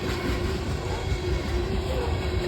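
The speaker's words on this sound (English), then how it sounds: "while we're watching the train here" Train rolling past on rails near Ashland, Kentucky, hauling coal loads, a steady continuous rumble and rail noise with a faint squealing tone, close and fairly loud with no voices.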